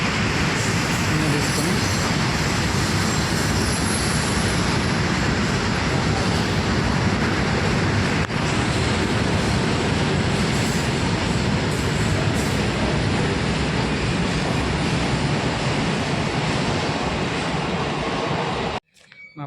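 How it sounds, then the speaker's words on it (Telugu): A goods train runs through a small railway station as a continuous loud, dense roar of wheels and wagons that fills the whole stretch before cutting off abruptly, with a brief voice over it. "ఇప్పుడే గూడ్స్ ట్రైన్ వెళ్తుంది చూడండి"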